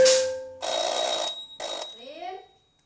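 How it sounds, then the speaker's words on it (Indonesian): A household telephone rings in two electronic bursts, loud and close, with a pause between them, followed by a short spoken voice. "Rin, Enya, coba angkat telepon itu."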